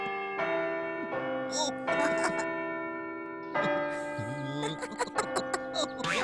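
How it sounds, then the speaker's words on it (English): A very large, grand doorbell rings out in a sequence of resonant, church-bell-like chimes, several struck tones layered and ringing on, with brief voice sounds mixed in. "Barney, may I push the doorbell, please?"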